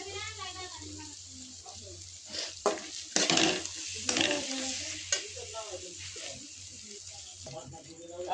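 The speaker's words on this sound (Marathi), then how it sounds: "आपला मसाला भाजत आला, आता तेल सुटायला लागले" Oily sizzling and scraping of a spice paste being stirred in a pan, steady throughout with a few louder clatters near the middle, a voice briefly audible; the paste is frying for a river fish curry.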